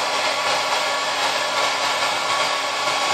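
Hair dryer blowing steadily to dry a wet-formed leather tomahawk sheath, a loud continuous whooshing hiss with a faint motor whine, close and unbroken throughout.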